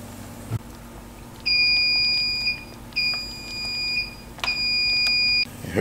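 A timer on a 2-quart pressure cooker, used for cooking pulled BBQ chicken, sounds three sustained high-pitched electronic beeps, each lasting about a second. The beeps are clear and close over quiet kitchen background noise.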